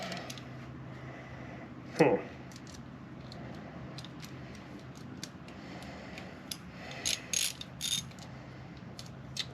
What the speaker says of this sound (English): It's like I got a faulty worm clamp. It's not wanting to tighten.